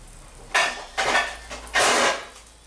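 A lid goes onto a pan of frying egg with several metallic clanks and scrapes, sharp bursts of clatter spaced over a couple of seconds above a faint background.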